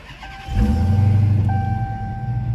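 Dodge Hellcat being started: a quiet moment, then the engine catches with a loud low burst and settles into a deep, steady idle, while a thin electronic tone sounds from the dashboard.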